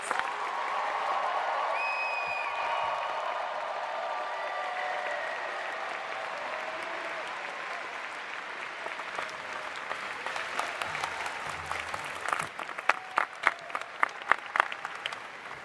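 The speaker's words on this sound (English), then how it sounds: "give a loud round of applause to all of our Information Library Science graduates" A commencement audience applauds the Information and Library Science graduates in a long, even roar of clapping that thins toward the end into a few louder, distinct claps.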